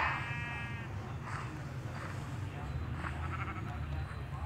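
A sheep in Minecraft Pocket Edition gives a single short, wavering bleat near the start, faint and then gone, leaving a steady low background hum.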